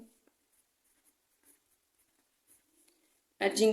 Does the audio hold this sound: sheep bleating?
no